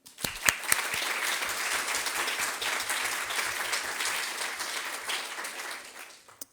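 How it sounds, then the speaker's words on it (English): Sustained applause from an audience at a sustainability awards showcase, a continuous mass of claps holding even for several seconds before fading out. "a big round of applause again"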